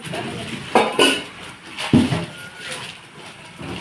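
Stainless steel cooking pots are handled, giving a few sharp metallic clanks and knocks, two close together and another a second later, over a quiet room.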